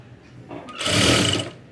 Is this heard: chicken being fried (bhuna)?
no